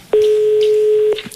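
Mobile phone number being dialed during a radio broadcast, a single clean steady keypad tone held for about a second, loud and close, with no voices.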